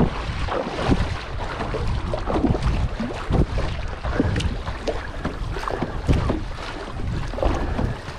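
A fiberglass kayak is paddled on the sea off Cornwall, with rhythmic splashes and water swishes under gusty wind noise buffeting the microphone.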